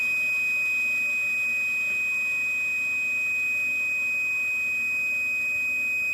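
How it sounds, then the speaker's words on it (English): A motor protection module alarm sounds after its contactor trips, a steady, unbroken electronic tone held at one pitch for six seconds, with faint electrical hum underneath and no voices. "We see the module alarmed, the contactor tripped, and the motor turned off."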